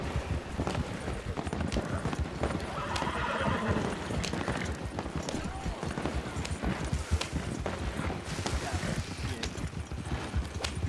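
Horse hooves clatter in a steady gallop with whinnies, under dense Red Dead Redemption 2 Online game noise and distant gunfire.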